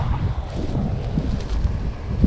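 Strong wind gusts roar and buffet across a wheat field at harvest time, a steady, heavy rumble with uneven surges and no talking.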